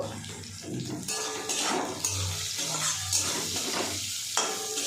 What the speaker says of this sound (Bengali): এর ভিতরে পরিমাণ মতো নুন আর হলুদ দিয়ে একটু ভেজে নেব।